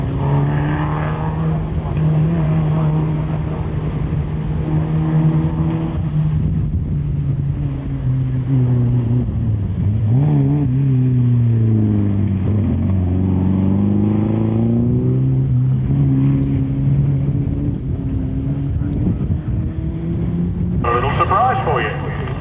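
A red Ford Escort race car accelerates up a hillclimb course, its engine note rising and falling through the gears as it powers through corners and a dip, loud and continuous, with a commentator talking over it.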